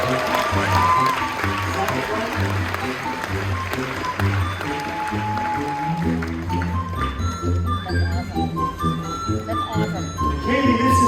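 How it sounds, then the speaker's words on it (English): A theater audience aboard a Royal Caribbean cruise ship applauds after a magic act, steady clapping over lingering tinkling music, with cheering and a voice mixed in. "along with all of this applause"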